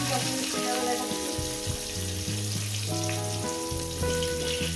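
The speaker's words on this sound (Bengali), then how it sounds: "এই আলুগুলো আমি সুন্দর করে তো বন্ধুরা আলুগুলো আমি পাঁচ মিনিট ভেজে নিচ্ছি" Potatoes frying in oil for a cauliflower and potato chicken curry, a steady soft sizzle heard under prominent background music with sustained tonal notes throughout.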